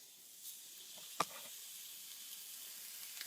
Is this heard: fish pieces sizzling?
yes